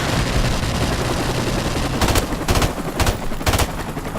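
Rapid automatic gunfire in a first-person shooter video game, a dense rattling burst under steady background noise, then several distinct louder shots in a quick rhythm near the end, with no talking.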